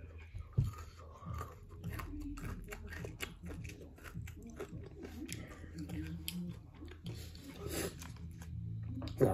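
Someone chews a crunchy Feastables chocolate bar up close, with repeated crisp bites and crunching, small rustles and scrapes, and brief talking between mouthfuls.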